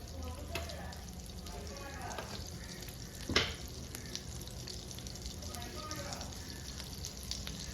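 Butter melting with a tablespoon of sunflower oil in a hot pan gives a steady, soft sizzle throughout, with one sharp clink near the middle.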